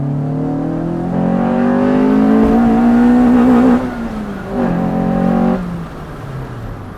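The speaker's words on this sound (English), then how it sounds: "sure sounds cool when VTEC kicks in" A Honda B17 engine swapped into an EF chassis revs hard while driving, climbing in pitch as VTEC engages, then eases off and surges again before dropping back, loud and close with no talk.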